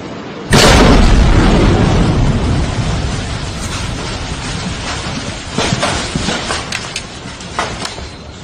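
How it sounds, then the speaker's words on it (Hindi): A house in Kupwara district, Kashmir, is blown up with explosives: a sudden loud blast erupts, followed by a long rumbling roar that slowly fades, with scattered debris crackles and pops afterward. "ज़िला कुपवाड़ा में एक और कश्मीरी का मकान धमाका खेज़ मवाद से उड़ा दिया गया"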